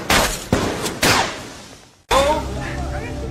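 Sharp sniper gunshots crack out three times in quick succession, loud and close, each followed by a decaying tail, then a brief silence before a burst of noisy activity with voices.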